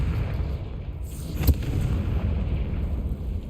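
A Confringo fire spell detonates in Hogwarts Legacy, a single sharp blast midway through that stands out against a steady, rumbling background of game ambience.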